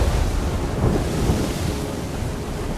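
A thunderstorm at sea in the video game Assassin's Creed, heard as a loud, dense, unbroken roar of rain, wind and low thunder rumble, with no speech.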